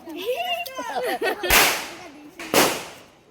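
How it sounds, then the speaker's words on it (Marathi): Two loud, close Diwali firecrackers burst about a second apart, each with a sharp crack and a short rumbling tail, coming right after a person speaks briefly. "दिशाने बघा किती बॉम्ब आणलेला आहे"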